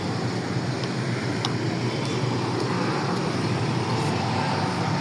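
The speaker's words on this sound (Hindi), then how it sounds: "हाँ जी, गाड़ियाँ आनी शुरू हो गई हैं।" Steady road traffic at the T Chowk flyover, loud and close, a continuous roar of passing cars and heavier vehicles with no speech.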